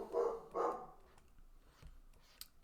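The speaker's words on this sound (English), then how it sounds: "She's barking again." A female dog barks twice in quick succession indoors, moderately near, followed by quiet room tone with a faint thump.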